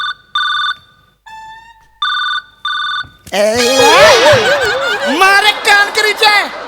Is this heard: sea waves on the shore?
no